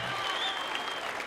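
An audience at a live stand-up comedy show applauds, giving a brief, steady round of clapping with crowd noise and no one speaking over it.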